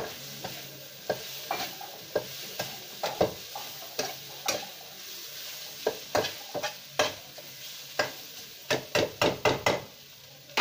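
Grated carrots are stirred in ghee for gajar halwa, a spoon scraping and knocking against the pan in a steady rhythm over a soft sizzle, close by and growing quicker toward the end, with no speech.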